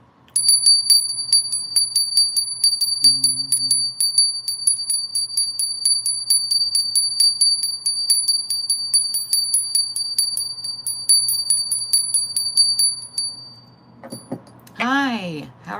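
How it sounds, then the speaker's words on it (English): A bell rung repeatedly in a fast, steady ringing tone that carries on for about thirteen seconds before stopping, with a brief sliding sound near the end. "First, we're going to ring our bell"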